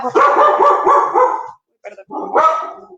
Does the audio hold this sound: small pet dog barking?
yes